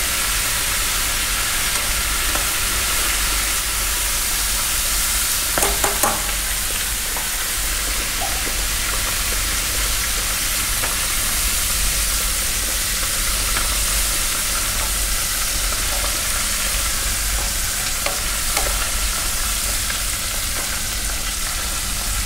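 A female golden crab fries in a pan for a Cantonese ginger scallion dish, making a loud, steady, hissing sizzle throughout with only slight shifts as it cooks, and no talking.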